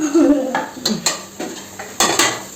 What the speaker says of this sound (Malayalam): ഇന്ന് മനുവാണ് കാര്യമായിട്ട് ഇളക്കുന്നത് കേട്ടോ.